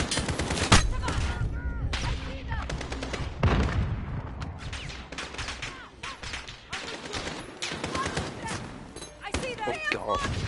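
Sniper fire and other gunfire in the Call of Duty: Warzone campaign, with repeated sharp shots and booming blasts over a dense battle din and a voice reacting in between.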